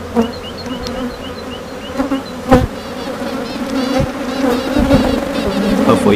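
A honeybee queen pipes inside the hive, heard as faint, thin, repeated pulsing tones over the dense, loud buzzing hum of many bees close by.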